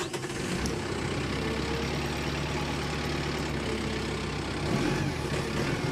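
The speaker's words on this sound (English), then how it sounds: "I'm going to start this tractor up. I'm going to run it around," The diesel engine of a 2022 Kubota M7060D tractor runs steadily at a low, rumbling idle throughout, moderately loud with no voices.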